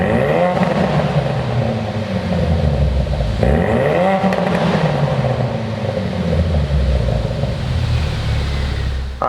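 A tuned 450-horsepower 2017 Ford Focus RS engine barks to life and revs hard, loud and close, its rising and falling pitch sweeps repeating over a deep steady rumble with no talking.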